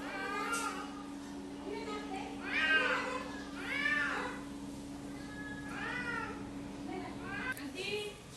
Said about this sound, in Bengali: এই যে বিড়ালটাকে এভাবে মারতেছে